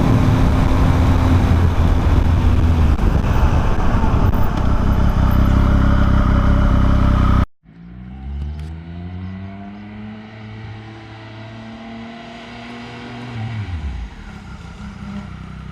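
A 2019 Triumph Speed Triple RS motorcycle engine roars loudly and steadily up close, then cuts abruptly to a lower idle with rising and falling revs.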